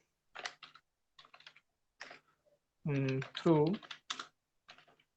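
Computer keyboard typing while writing an SQL query, a few scattered soft key clicks in short runs, close and quiet, between bits of Hindi speech.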